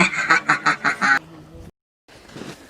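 A plastic bird toy gives a rapid series of five loud, regular quacks up close, then a brief gap of silence before softer background noise and faint talk.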